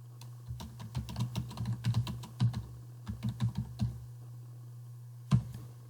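Computer keyboard keys clatter in quick uneven bursts as a forum reply is typed, with short pauses between runs, a steady low hum underneath and one louder keystroke near the end.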